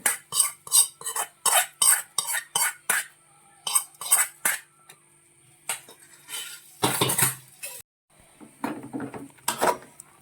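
A spoon stirs a tempering of chilli and curry leaves into boiled tapioca: a dozen or so quick scraping, clinking strokes against the vessel, then a denser, louder scraping and mixing toward the end, close by with no voices.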